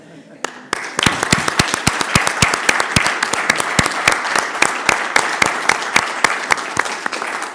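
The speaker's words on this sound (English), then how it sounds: "Can we give you a round of applause?" A room at a utility board of directors meeting applauds film stars in attendance, a few sharp nearby claps opening into steady, moderately sized clapping with individual hand claps standing out, while voices murmur underneath.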